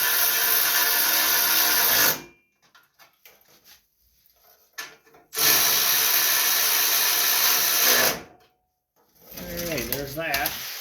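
Loud power-tool whirring while tightening bolts on the front axle of a John Deere LA145 riding lawn mower: two sustained bursts of a few seconds each, separated by quiet clicks and handling, with a third rattling burst at the end.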